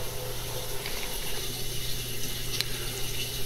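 Water filling the wash tank of an AC44 dishwasher, a steady hissing rush with a constant low hum beneath, unbroken and moderately close.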